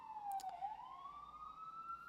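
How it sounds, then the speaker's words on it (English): A police siren wails in the distance, its pitch dipping and then rising again in a long, steady sweep, faint but clear. "A lot of sirens today."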